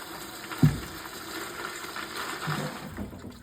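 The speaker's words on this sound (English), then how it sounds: "Fill it with cold water so you get about a middle finger's worth from the top." Cold tap water pours steadily into a container being filled for bait, a continuous rushing, splashing stream with a brief knock near the start, moderately close.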